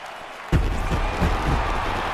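Home crowd in MLB The Show 18 baseball roars into sustained cheering and applause in the bottom of the 8th as their team takes the lead, a dense steady wash of noise starting with a sudden swell.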